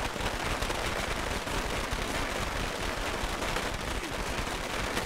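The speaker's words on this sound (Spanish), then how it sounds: "Son petardos, pero no veo que hayan hecho nada." Firecrackers popping in the video game Dead Rising 2, a dense, continuous crackle of rapid bursts at steady loudness, with no talking.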